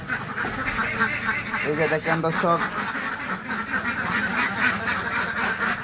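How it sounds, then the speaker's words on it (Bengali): Ducks on a farm quack in a short burst of nasal calls near the middle, with someone talking over steady background noise throughout. "এই যে দেখেন হাঁসগুলা, খুব সুন্দর"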